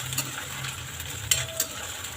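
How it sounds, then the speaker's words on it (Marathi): Crushed ginger-garlic paste sautéing with onions in a kadhai, a quiet low sizzle with a couple of light stirring clicks, close but faint. "ठेचलेला आलं लसूण पेस्ट परतून घ्यायचं"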